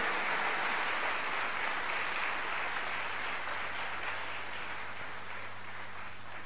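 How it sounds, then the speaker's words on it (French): A church congregation at a Resurrection celebration acclaiming the Lord, a dense, steady roar of applause and cheering filling the room throughout. "On nous acclame le nom du Seigneur."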